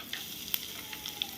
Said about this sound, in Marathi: मोहरी आता तडतडायला लागली आहे.